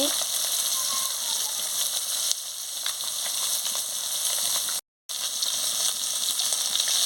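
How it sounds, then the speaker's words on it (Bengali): Rupchanda (pomfret) fish frying in hot oil, a steady, close, hissing sizzle with small crackles that keeps going throughout, broken by one very brief silent gap. "মাছটা ভালো করে ভেজে নিচ্ছি।"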